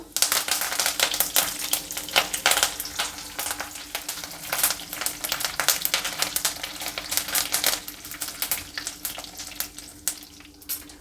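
Mustard seeds, urad dal, chana dal and curry leaves fry in hot oil for jeera-pepper chitranna, crackling and popping in rapid irregular bursts over a faint steady hum.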